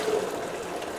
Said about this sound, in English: Straining the water to blanch the next batch